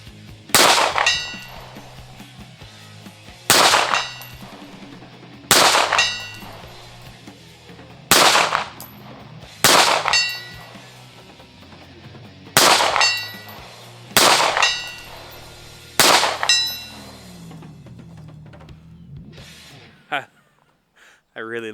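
A Staccato XL pistol fires at steel targets about 115 to 120 yards away, eight sharp loud shots at spaced, fairly regular intervals. Each shot rings and decays, and a short faint burst of softer taps comes at the very end.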